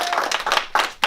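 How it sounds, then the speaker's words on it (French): A short burst of clapping from a small gathering, several close, distinct hand claps in an uneven rhythm lasting about a second. "Applaudissez Souad."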